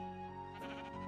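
A single sheep in the Minecraft video game bleats once, a short, wavering, nasal call that sits over a steady background drone.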